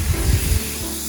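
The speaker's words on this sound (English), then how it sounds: "I can hear it frying." Frozen food sizzles and steams on a Blackstone griddle at an RV campsite, a steady loud hiss with a low rumble at the start that then settles.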